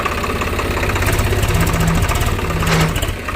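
A tractor engine runs up close as the clutch is released, with a suspected damaged clutch plate. It gives a steady heavy rumble with a rapid knocking pulse and brief whining tones.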